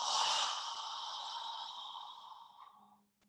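A long, deep breath out during a yoga class, a soft airy exhale close to the listener that fades gradually over about three seconds.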